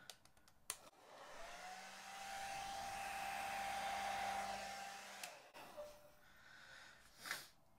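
A hair dryer blows acrylic paint across a canvas in a Dutch pour, a steady close whirring hiss held for about four seconds that starts and cuts off sharply, with a few handling knocks around it.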